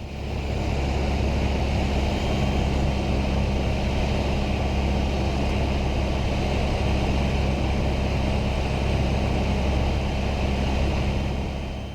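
A propeller airplane taxis toward the fuel area, its engine a loud, steady, broadband drone heard from inside the cockpit with no pauses or changes in level.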